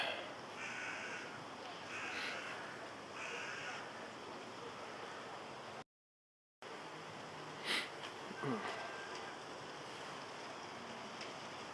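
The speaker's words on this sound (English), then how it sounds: "Look how many birds." Crows caw repeatedly in a park in Rome, several harsh calls spread out over a steady outdoor wash of wind and distant ambient noise, with a brief cut of silence partway through.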